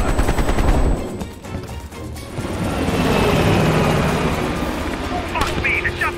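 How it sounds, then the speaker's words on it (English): Helicopter rotor roar in Call of Duty: Black Ops Cold War, heavy and continuous and fading as it pulls away, mixed with bursts of gunfire at the start and shouting voices over the din. "The chopper got away!"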